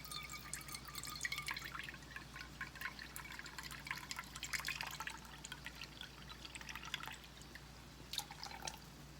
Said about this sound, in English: we're going to add 1/3 cup of soy sauce